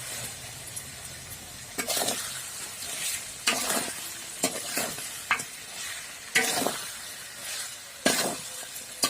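Masala chicken frying in a pan in a village home kitchen, stirred in bursts that scrape and clatter over a steady, close sizzle.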